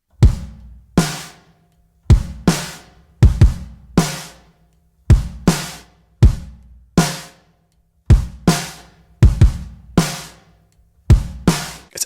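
Drum kit processed with a Waves SSL G-Comp bus compressor set to slow attack and fast release, blended in around 60%: punchy kick and snare hits in a steady groove, loud and close, with no talking.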